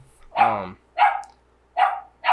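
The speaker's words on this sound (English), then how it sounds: "I'm just realizing our dog in the background." A dog barks three times in the background, each bark short and separated by about a second of quiet, and no one speaks over it.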